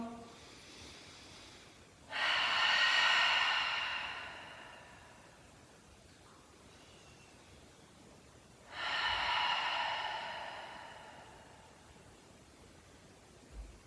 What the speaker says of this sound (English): take a couple or as many cleansing breaths as you can to fully let go of your breath control